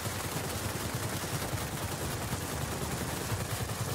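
Enemy machine-gun fire in the World of Warplanes aerial combat game, a dense, steady rattle of rapid shots filling the whole stretch at moderate loudness with no talk over it.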